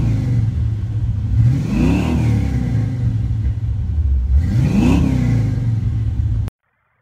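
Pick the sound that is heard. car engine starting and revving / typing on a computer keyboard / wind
car engine starting and revving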